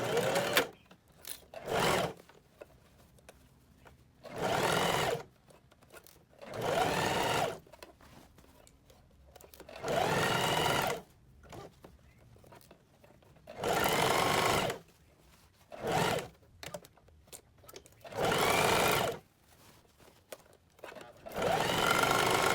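Sewing machine stitching a blouse seam with a 1 cm seam allowance, running in bursts of rapid mechanical chatter separated by pauses, close and fairly loud, with no talking.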